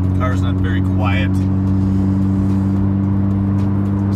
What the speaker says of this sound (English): Sorry about all the noise.